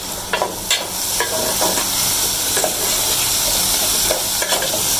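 Okra (bhindi) fries in hot oil with a continuous close sizzle, broken by intermittent scraping stirs and light utensil clicks.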